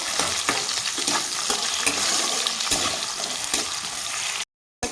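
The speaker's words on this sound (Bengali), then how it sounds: "আলুটাকে আমি একটু ভেজে নেব আলুটাকে একটু হালকা করে ভেজে নিতে হবে" Potato pieces sizzle and crackle steadily in a pan of hot oil, close and loud, with occasional scraping stirs and a brief cut near the end.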